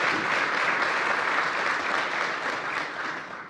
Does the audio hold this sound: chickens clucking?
no